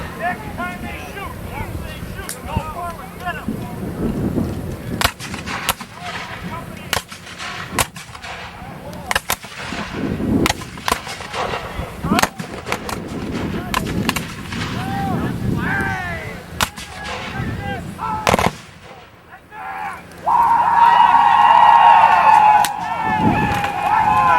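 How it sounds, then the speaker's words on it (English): Historical reenactment companies fire rifle volleys by company, giving repeated sharp cracks and booms at irregular intervals across an open field, with wind rumble and a narrator talking over them; a high tone enters near the end. "see the companies firing by company there"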